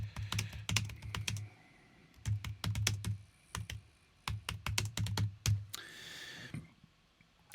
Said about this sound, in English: then I'll just do some typing here